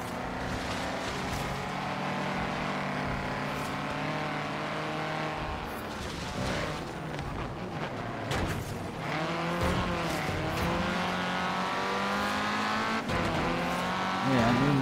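Race cars in Forza Horizon 3, including Ariel Atoms on a dirt course, rev loudly with climbing and falling engine pitch through gear changes, and tires squeal briefly toward the end.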